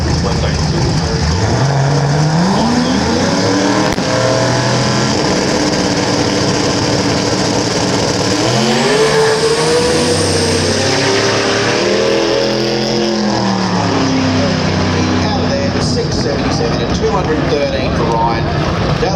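A drag racing car's engine roars and revs at a drag meet in Willowbank, Queensland, loud and sustained with shifting pitch, running rough, while a commentator talks over it.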